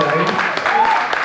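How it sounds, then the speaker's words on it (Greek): Brief burst of audience applause in a bistro on its first live-music night, during a Tsiknopempti celebration. A steady wash of claps sits alongside voices. "Θέλω να χειροκρότημα στο μπιστρό"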